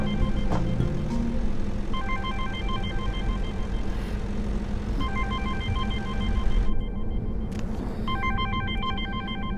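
A telephone rings with repeated bursts of electronic trilling that start and stop in a steady pattern. Each burst is clear and fairly loud over a continuous low rumble of ambient noise.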